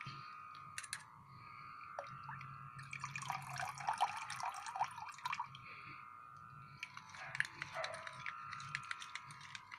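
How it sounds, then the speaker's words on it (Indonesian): NPK fertilizer is stirred into about four litres of water to dissolve it, giving faint, close sloshing and trickling water with light clinks in irregular bursts. "ini saya aduk supaya pupuk NPK nya larut"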